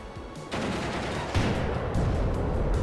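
T-55 tank firing on infantry in the WARNO strategy game: dense, heavy battlefield gunfire swells into a sustained roar of shots and blasts, with a louder burst partway through.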